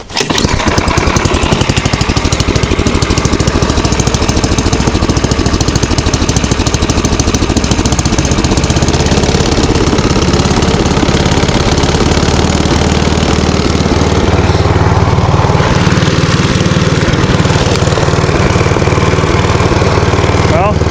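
A snowblower engine runs loud and close in the cold dark, a rough, rattling drone that settles into a steadier, deeper idle toward the end.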